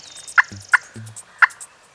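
Wild turkey toms or jakes gobble at the edge of a field, three sharp loud gobbles in quick succession with a couple of lower clucks between them, no talk.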